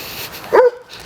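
A dog gives a single short bark outdoors in a yard, loud and close, rising briefly above quiet background ambience.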